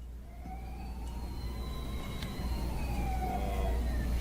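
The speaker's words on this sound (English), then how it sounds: "Sirens? It's that fire truck." A distant fire truck siren wails and sweeps up and down over steady low traffic rumble, holding for several seconds without fading.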